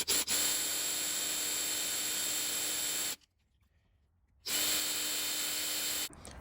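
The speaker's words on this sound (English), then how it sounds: "let's get to drilling these cars out" A power drill boring into Hot Wheels die-cast toy cars runs in two long steady whines, each lasting about three seconds, with a short break between them and a brief restart at the end. No voices.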